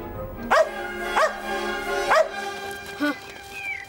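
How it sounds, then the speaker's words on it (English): A dog barks indoors in a house, four sharp yapping barks in an uneven rhythm, fairly close and clear, with nobody speaking over them. "Tell that dog to shut up!"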